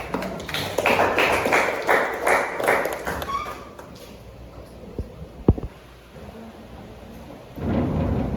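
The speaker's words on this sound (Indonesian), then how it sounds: "tepuk tangan" Applause from a university audience fills the first few seconds, then fades into a quieter room with a few scattered taps and knocks, and a brief burst of noise near the end.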